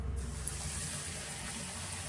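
Aloo methi puri frying in hot oil gives a steady, quiet, hissing sizzle that stays fairly even from start to finish, with no voices.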